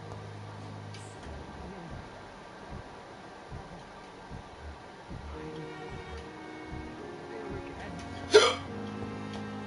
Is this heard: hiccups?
yes